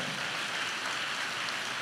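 Rain falls in a steady, even hiss, a continuous soft wash of drops with no voices over it.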